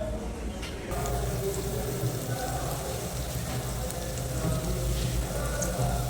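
Green chillies and mixed vegetables, potato, bitter gourd, cauliflower, cabbage and okra, fry in oil for a bitter gourd gravy, giving a steady close crackling hiss that runs throughout with no talking.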